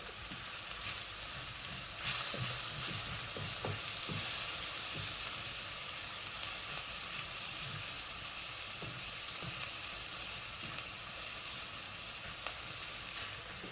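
Chicken pieces sizzle and hiss steadily in a hot pan during a stir fry, a continuous close frying crackle with occasional soft scrapes and knocks as pieces are turned over.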